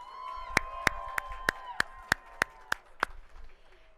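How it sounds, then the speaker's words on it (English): At a Hollywood Walk of Fame ceremony, one person claps sharply and steadily close by, about nine even beats, over a faint crowd murmur and a soft tonal background. "Let's give her a round of applause."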